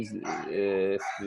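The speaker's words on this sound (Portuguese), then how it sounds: "Tem um cachorro latindo alto aí" A dog barks loudly and close in one short burst of sharp, voiced yelps.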